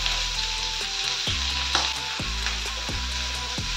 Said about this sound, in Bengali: তেলটা গরম হয়ে গেছে, পেঁয়াজ কুচি আর লঙ্কা কুচিটা দিয়ে দেবো।